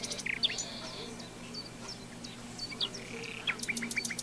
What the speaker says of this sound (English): Woodpeckers